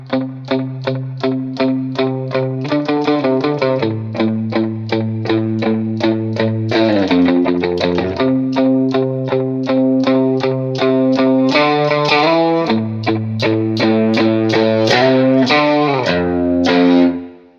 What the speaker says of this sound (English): I added chorus just to give it a little bit more flavor.